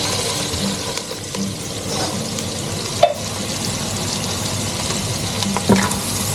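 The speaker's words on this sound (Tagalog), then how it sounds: "Igisa ang mushroom." Mushrooms sauté in a pan for a Filipino-style carbonara with a continuous close sizzle and crackle, and a couple of clinks of a utensil against the pan.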